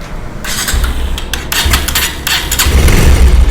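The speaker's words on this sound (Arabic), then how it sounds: "المحرك يا جماعه لو نسمع صوته المحرك كله فيه اهتزاز جامد جدا" A 2022-model motorcycle engine with a fault causing abnormally heavy vibration runs loud and close, its rough idle rumbling with heavy shaking and a brief rev partway through.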